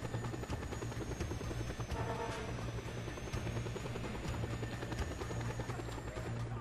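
Steady, loud helicopter rotor thrum with a continuous engine whine in the Just Cause 2 video game, running unbroken throughout with no talking.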